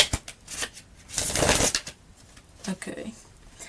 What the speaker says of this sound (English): I wanted to shuffle them again.